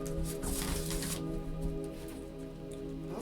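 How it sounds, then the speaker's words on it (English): Tarot cards being shuffled again and again, a steady papery riffle and slap that stays close and fairly loud, with occasional soft handling noises between passes. "Lots of shuffles for you guys."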